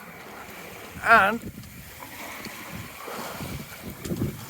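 Hunter Horizon 27 sailboat running fast on a beam reach under an asymmetric spinnaker, with steady wind and water rushing past the hull and a voice speaking briefly over it.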